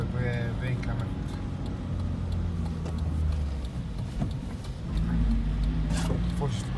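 A car creeps along slowly at about 20 km/h on a foggy road, its engine and tire rumble a steady low drone from inside, with people talking over it.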